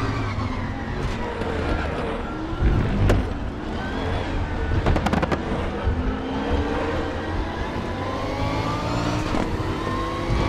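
A Bentley GT3 race car's engine, driven in the ADAC GT Masters racing game, revs loudly and continuously through gear changes with rising and falling pitch, plus a few sharp transient bursts, and no talking.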